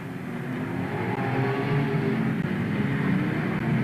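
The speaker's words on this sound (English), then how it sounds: "And here they come, the leading cars." Banger racing cars driving around the track in a heat, a continuous roar of several engines that grows slightly louder as they approach, steady and fairly distant.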